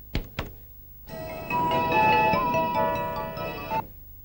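A mobile phone ringtone plays a bright electronic melody for a few seconds in a Telugu comedy film scene, after two short thunks and before cutting off abruptly.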